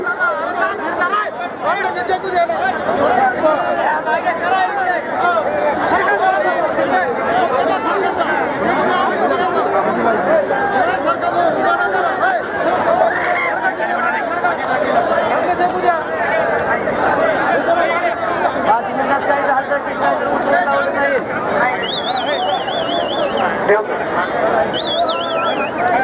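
Dense crowd chatter fills an open-air kusti wrestling ground in Vaygaon, Maharashtra, a loud, steady babble of many voices with occasional laughter throughout.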